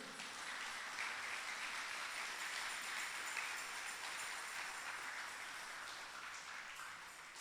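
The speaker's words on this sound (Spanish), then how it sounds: "¿Cuántos le dan palmas al Rey?" Church congregation clapping during a sermon, a steady wash of many hands heard from a distance at low volume, continuous throughout without speech.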